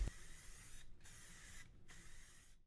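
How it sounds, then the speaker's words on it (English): Aerosol rattle cans spray self-etching primer in three long hissing bursts, each broken by a brief pause, steady and fairly close with no one talking. "I used some rattle cans to first spray on some self-etching primer"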